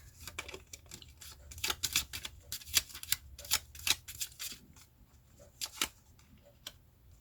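Tarot cards shuffled and drawn during a reading, giving a run of crisp, close card flicks and slaps in quick irregular bursts, with quieter pauses between them and no talking.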